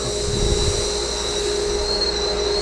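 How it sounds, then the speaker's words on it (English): A dust collector on a blast cabinet runs continuously, a steady mechanical roar with a constant whine and a low rumble, fairly loud with no speech. "I can say that that dust collector's doing its job. You hear it's pretty quiet."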